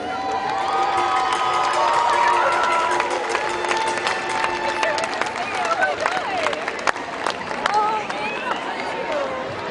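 Roller derby crowd cheering and shouting for the home team at an evening bout, a dense, steady roar of voices and whoops with scattered claps, loud and continuous throughout.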